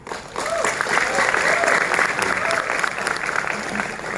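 An indoor audience at a presentation gives a steady round of applause, with dense clapping that holds for about four seconds and some faint voices mixed in.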